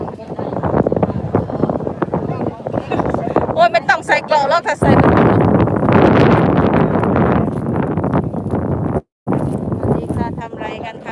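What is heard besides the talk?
wind blowing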